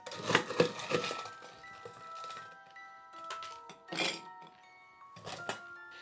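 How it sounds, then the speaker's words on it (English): Ice cubes clink and rattle into a glass in a few separate bursts, close and bright, with quiet gaps and ringing tones between them. "Get a glass and put some ice in there."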